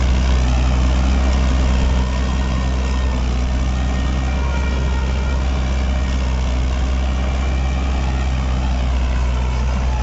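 A tractor engine drives a long-tined tiller through very hard, compacted soil, producing a loud, steady low rumble and drone that holds throughout without pause.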